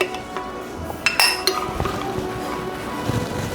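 Ice and liquid clatter inside a lidded Yeti tumbler shaken as a butterbeer-style cocktail with agave, a few sharp clinks over a steady rattling wash, close and fairly loud.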